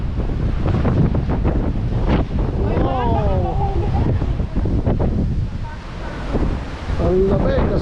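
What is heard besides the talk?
ocean waves and wind at the Atlantic coast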